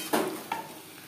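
Potatoes and pointed gourd cooking with spices in a pan over a medium flame: two short sizzling, stirring bursts, close and moderately loud, fading to a soft hiss.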